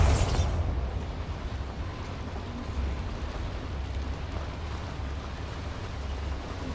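A Bombarda spell blast in the video game Hogwarts Legacy, set in a mine: a sharp, loud explosive burst at the start that gives way to a sustained, heavy rumble lasting several seconds.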